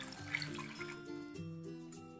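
A cup of water poured into a pot of cut potatoes and tomatoes for a no-onion, no-garlic chutney, giving a steady splashing stream over about two seconds with a low background hum.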